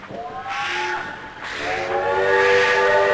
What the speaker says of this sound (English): Where's the train?